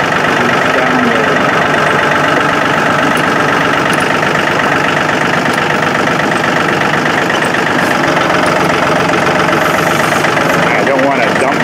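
A truck engine running as the vehicle moves slowly along a rough bush track, a loud steady rumbling drone with a knocking texture, under occasional talk.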